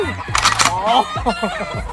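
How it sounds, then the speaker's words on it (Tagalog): A rooster crows once, loud and close, followed by voices talking. "Nag-iingay na aking manok."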